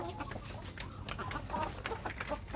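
Free-range village chickens and chicks clucking and peeping close by in a continuous busy chorus, no talking.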